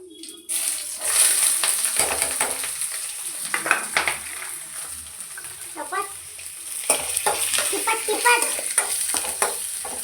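Green chillies and onion frying in a pan, a continuous close sizzle with stirring scrapes and a faint watery hiss, no voices.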